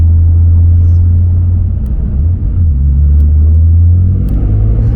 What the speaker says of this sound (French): elle va passer les vitesses de manière très douce, très lente